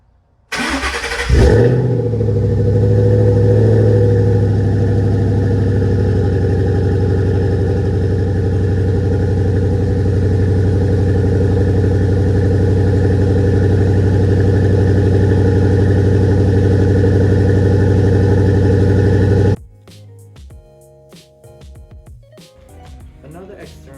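A 2011 Ford Mustang GT with stock manifolds cold-starts, cranking briefly and catching into a loud, deep, steady high idle that holds for about eighteen seconds before cutting off into quieter background sound.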